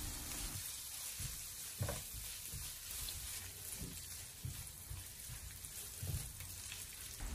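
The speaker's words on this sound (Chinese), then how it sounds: "把油烧热之后，再把剁好的肉末放进锅中，用小火给它煸炒一下，把肉末炒散，炒出油脂。" Minced meat stir-frying in a wok of hot oil over low heat for mapo tofu gives off a soft, continuous sizzle, with occasional scraping and stirring bursts.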